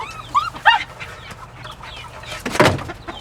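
A young broiler rooster set on a scale gives a few short clucks and squawks early on, then a louder scuffling burst near the end, fairly close in a quiet setting.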